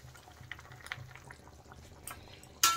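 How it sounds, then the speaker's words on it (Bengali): Cauliflower and potato curry gravy simmering in a pot, a faint low bubbling with scattered soft pops and small plops, quiet and close, ending in a brief louder clatter. "এখন ঝোলটা ফুটতে থাক।"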